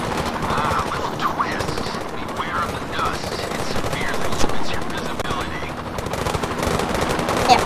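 Sustained machine-gun fire in the VR shooter Zero Caliber VR, a dense, continuous rattle of rapid shots running the whole stretch, with a player's voice mixed in underneath.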